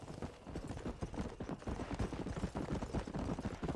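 A horse gallops across open Wild West country in Red Dead Redemption, its hooves a fast, steady clip-clop rhythm that stays close and even from start to finish, with no voices over it.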